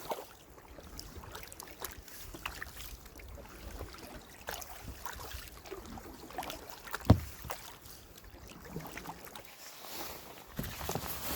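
Steady kayak paddling on a very calm Loch Etive at dusk: soft repeated water swishes and drips under a low, even background, with one sharp knock midway and no talking.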